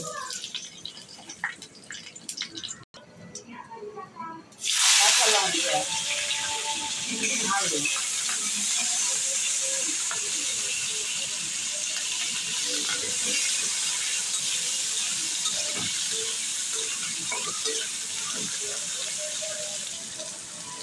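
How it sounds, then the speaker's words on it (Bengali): Panch phoron five-spice seeds hit hot oil in a pan and burst into a loud, steady sizzle that carries on for a long stretch after a quieter start with kitchen clatter. "তেল দেবো পাঁচ ফোড়ন দেবো"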